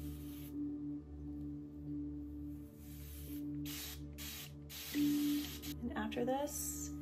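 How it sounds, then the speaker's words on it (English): A continuous spray bottle mists hair during a natural hair wash day, giving a few short hissing bursts over a steady low hum, with someone talking nearby. "So I think the continuous spray bottle has been really helpful for me."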